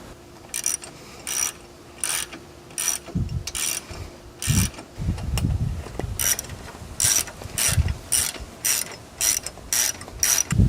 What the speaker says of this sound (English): grab these bolts and we'll get these guys screwed in